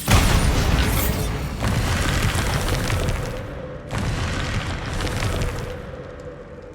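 Bombarda spell blasts in Hogwarts Legacy burst out as loud, booming explosions, two heavy bursts each followed by a rumbling decay, with no talking over them.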